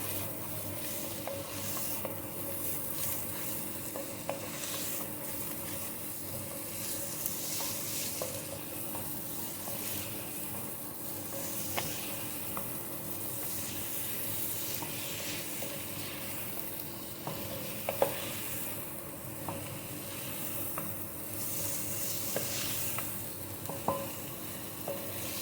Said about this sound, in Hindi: तकरीबन 5 मिनट तक हमें इसको अच्छे से भूनना है।